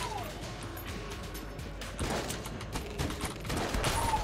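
Rapid gunfire and explosive crashes from the video game Enter the Gungeon, a dense, continuous barrage of shots that grows louder in the second half, with no talk over it.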